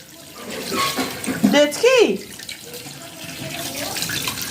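Fresh rohu fish being rinsed under a running tap in a sink basin, with a steady splashing water stream throughout and a voice speaking over it near the middle.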